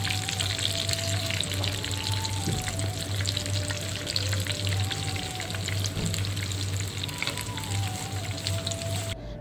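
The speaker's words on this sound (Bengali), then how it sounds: "নাগেটসগুলো যখন এক পাশ ভালো করে ভাজা হয়ে যাবে, তখন আমি উল্টিয়ে অন্য পাশও ভালো করে ভেজে নিব।" Chicken nuggets frying in hot oil, a continuous close crackling sizzle, fairly loud and steady throughout, with a faint tonal whine drifting underneath.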